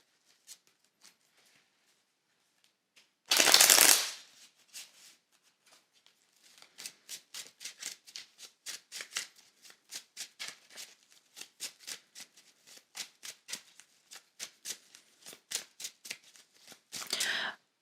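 Tarot cards being shuffled up close, a brief loud riffle followed by a long run of quick soft card flicks and slides at an uneven rhythm, ending with another short riffle.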